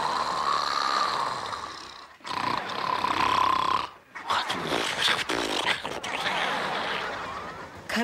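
Loud, rasping snores fill the clip in long rough breaths, broken by a couple of brief pauses, close and continuous.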